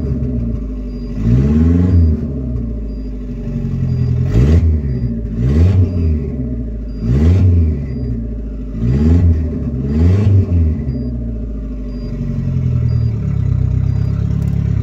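A turbocharged Fiat Tempra Stile 2.0 8V engine with a large intercooler revs up repeatedly in short bursts, about five throttle blips with an idle rumble between them, close and loud.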